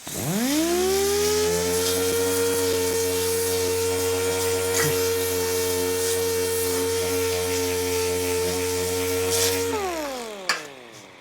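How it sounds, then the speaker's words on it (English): Dual action sander with 80 grit working motorcycle bodywork in a shop: a steady, close motor whine spins up, runs evenly for about nine seconds, then winds down, with no talking. "I kind of start the process with 80 grit on my dual action sander"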